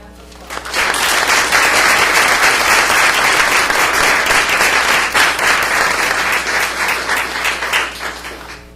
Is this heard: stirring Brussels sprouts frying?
no